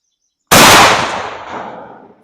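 A single loud blast from a Panzer 12-gauge smooth-bore shotgun with an improved cylinder choke firing a Federal Truball slug at an outdoor range, a sharp close report with a long fading tail.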